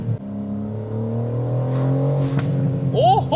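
BMW M4 Competition with an Akrapovic exhaust burbling steadily on a downshift, a sharp crack of a backfire bang near the end, followed by a brief voice over the engine.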